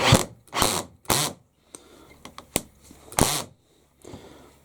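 Cordless drill driver with the clutch slipping at a low torque setting, giving several loud, sharp bursts of rapid ratcheting clicks separated by short pauses, close up with no talk.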